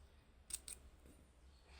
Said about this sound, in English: then I will cut with my scissors.